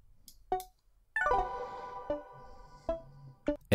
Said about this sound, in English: a chorus,